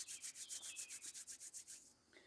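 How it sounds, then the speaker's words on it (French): Hands rub briskly together in a steady back-and-forth rhythm, about a dozen soft hissing strokes close to the ear, quiet and alone before a brief pause. "on frotte les mains."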